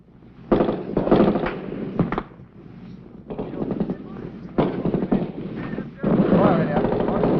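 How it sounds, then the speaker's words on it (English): Gunfire erupts in 1966 Vietnam War combat footage as Viet Cong fire from a village: bursts of sharp, loud shots and rattling volleys come in clusters with brief pauses, heard alone without talk. "30 VC opened fire from the village ahead"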